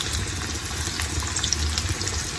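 Chopped medium onion hits hot oil in a home kitchen pan, giving a steady, close hiss and sizzle with faint crackles scattered through it, and no voices over it.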